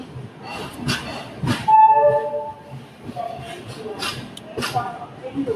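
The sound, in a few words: Chennai-Howrah Mail train departing Visakhapatnam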